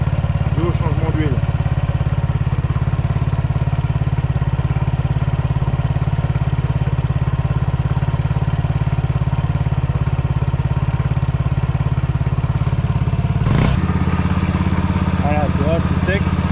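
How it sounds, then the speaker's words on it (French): A Yamaha Xmax 125 scooter idles after an oil change, a loud, even, close engine drone that holds steady throughout, with a voice speaking briefly over it and a short clatter near the end. "On va le laisser tourner. Tu vois déjà, le moteur fait moins de bruit"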